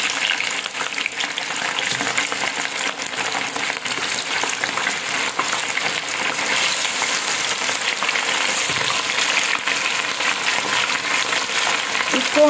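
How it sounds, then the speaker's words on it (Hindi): Fish frying in smoking-hot oil for a masala fish karahi crackles and sizzles loudly and continuously, a dense close bubbling hiss with small popping spatters throughout. "अब हम इसमें डालते हैं फ़िश।"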